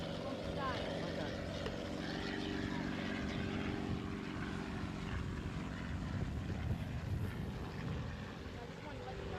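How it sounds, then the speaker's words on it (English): A helicopter flying overhead produces a steady, fairly distant rotor-and-engine drone throughout, with faint voices speaking beneath it. "Oh, helicopter."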